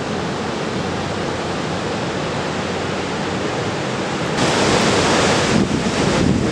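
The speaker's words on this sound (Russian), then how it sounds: "пытаемся снять водопад" Iguazu Falls, seen from the Brazilian side, gives off a dense, continuous roar of falling water mixed with wind buffeting the microphone. The roar grows louder and brighter partway through.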